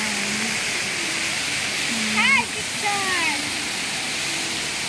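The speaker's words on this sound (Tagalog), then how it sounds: "Dito na kami sa may parang water falls." A waterfall tumbles over large rocks in Nan Lian Garden at Diamond Hill, Hong Kong, making a steady, full rushing roar that fills the whole clip, with a few brief voices rising over it.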